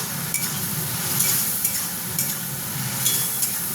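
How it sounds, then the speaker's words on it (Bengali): Prawns fry in a pan for a chingri posto dish, making a dense, continuous sizzle with faint stirring and metallic touches from the cookware. "এইভাবে চিংড়ি মাছকে একটু ভালো করে আমি ভেজে নেব।"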